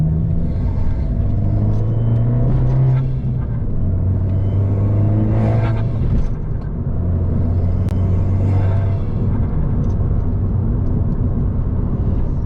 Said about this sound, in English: every single time I lift off my foot off the accelerator, you get that little whoosh, and the thing is, that's basically the turbo flutter coming through